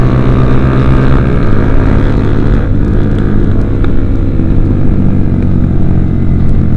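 Kawasaki Ninja 250 motorcycle riding with a steady, loud engine drone, part of a group ride, with continuous wind and road noise throughout.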